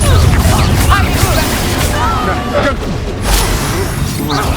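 Confringo spell blasts in Hogwarts Legacy during a fight with an ancient titan boss, a loud and dense booming crash with whooshing magical effects over a heavy rumble, lasting a few seconds.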